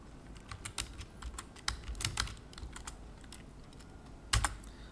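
Code being typed on a computer keyboard, a close run of quick uneven key clicks with short pauses and one heavier keystroke near the end, with no talking.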